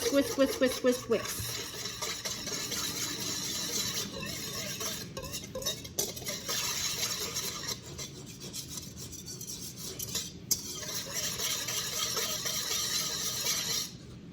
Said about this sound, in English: I'm going to add this to my mixing bowl. And then you're going to whisk.